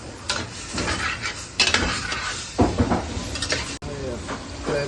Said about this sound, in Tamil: அதோட மஞ்சள் தூளையும் இப்போ சேர்த்துக்கொள்கிறேன். வடிவாக மிக்ஸ் பண்ணிக்கிறேன்.